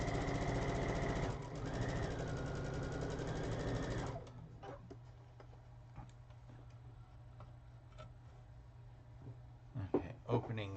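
A sewing machine stitches quilt pieces with a fast, steady mechanical whir for about four seconds and then stops, leaving quiet handling noises and light clicks.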